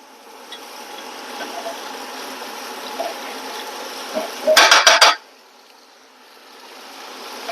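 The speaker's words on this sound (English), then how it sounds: "Give it a little flip so it gets some of that liquid on here, the mixture." Maple-glazed pork chops flipped in a hot pan, a short clatter of utensil against the pan about two-thirds through, over a steady low sizzle that continues before and after.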